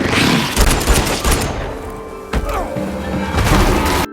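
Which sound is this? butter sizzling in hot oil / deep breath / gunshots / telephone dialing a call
gunshots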